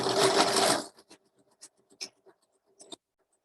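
A sewing machine stitches through three layers of fabric, with a close, fast mechanical whir that stops after under a second, followed by a few faint clicks and taps.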